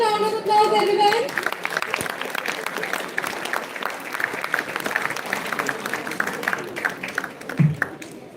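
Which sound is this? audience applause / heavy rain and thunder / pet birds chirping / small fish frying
audience applause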